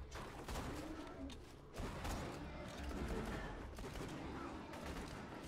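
Steady dense gunfire from a Borderlands 2 co-op fight, a continuous loud wash of rapid shots with a brief dip near the start, with no clear voices over it.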